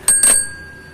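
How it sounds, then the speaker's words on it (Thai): A bell on a women's city bicycle rings twice in quick succession, bright and close, then its tone fades out. "นี่คือกระดิ่งครับกระดิ่ง"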